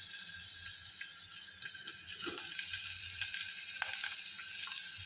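Paneer and potato hit a hot pan, starting a steady fry at moderate volume. Soft clinks and scrapes of a utensil sound against the pan near the middle and again toward the end.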